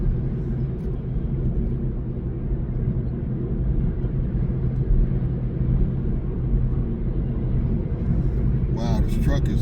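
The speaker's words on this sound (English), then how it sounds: "Wow, this truck is like holding up traffic major." Broadband road rumble from a truck and passing traffic, a steady low roar throughout with a voice briefly heard near the end.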